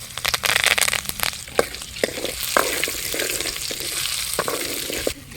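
Curry leaves sizzle and crackle in hot oil with ginger-garlic paste for a Hogenakkal-style fish curry, a steady frying hiss broken by sharp pops and stirring scrapes, close and loud throughout.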